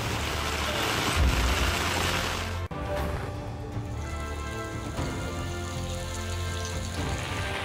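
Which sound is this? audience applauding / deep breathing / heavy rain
heavy rain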